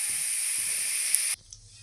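Hot oil hisses steadily in a frying pan, added after potatoes were fried for a vegetarian matar paneer; the loud, close sizzle runs for over a second, then cuts off abruptly, leaving only a faint hiss.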